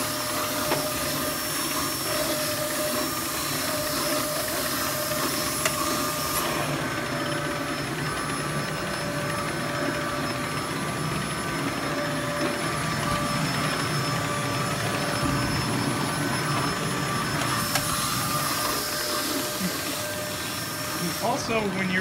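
A Hoover Z700 upright vacuum roars steadily on a bare hard floor with its brush roll switched off, a loud, continuous whine that shifts in tone partway through, and speech can be heard over it.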